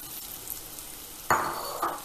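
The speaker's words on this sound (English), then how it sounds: "Place the potatoes into the pan." Potatoes hit a pan over medium heat with a sudden loud sizzle that settles into steady frying crackle, a second surge of sizzling follows shortly after; no one speaks.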